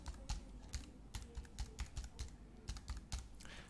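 Keys clatter on a computer keyboard as details are entered into a web form, a steady run of close, crisp clicks with short pauses between bursts and no talking.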